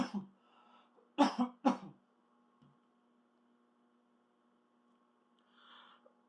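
A few sharp coughs close to the mic, two loud bursts after a softer one, over a steady low mains hum; quiet otherwise.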